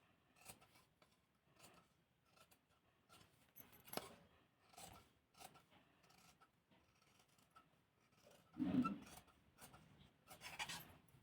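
Scissors cut through blouse fabric in a series of soft, quiet snips and rustles, with one louder thump of handling near the end.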